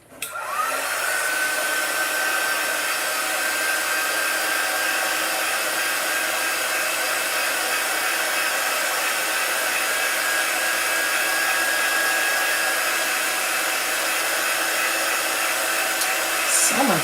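A hair dryer drying a chalk-painted 3D snowflake craft blows steadily and loudly for the whole stretch, a constant close whoosh with a thin whine and no voices over it.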